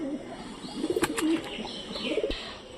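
Pigeons coo softly and steadily nearby as they sit together beneath a ledge, with low, rolling calls and no voices.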